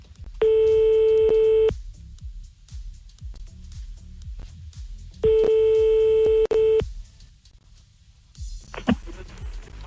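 A telephone busy signal follows a dropped call, with two long steady electronic tones separated by a quiet gap over a faint background rhythm.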